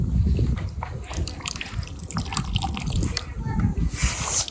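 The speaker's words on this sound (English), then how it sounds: "It's washing hands." Water running and splashing over hands being washed in freezing weather in a remote Ladakh village near the Tibet border, a steady trickle and slosh with people talking over it.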